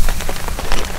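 Steady rain patters densely on a surface, a continuous close hiss of drops with no other sounds.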